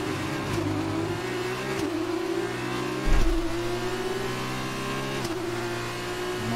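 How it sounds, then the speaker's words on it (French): Simulated F1 race car from the 2019 PC game, engine revving steadily at high pitch with rear tires spinning and losing grip, a brief low thump midway, loud and continuous with no talk. "Les pneus arrière qui patinent."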